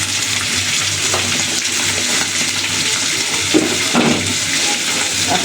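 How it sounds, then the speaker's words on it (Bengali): Hot water poured into a sizzling, slow-cooked beef curry makes a loud, steady rush of bubbling and hissing, with a couple of faint clinks. "এই পর্যায়ে সে গরম পানি দিয়ে দিব।"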